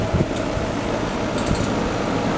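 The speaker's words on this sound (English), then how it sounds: "You can hear my heat pumps running" Outdoor heat pumps hum steadily on a snowy January day, a continuous low mechanical fan drone holding at an even level throughout.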